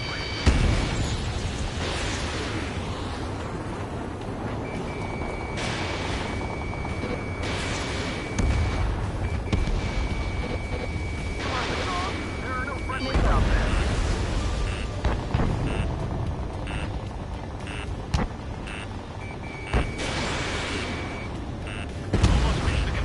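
Missile explosions from the Ace Combat Skies Unknown combat flight game rumble and burst continuously, with repeated booms layered over steady engine roar and game music throughout, while a voice calls out in the mix.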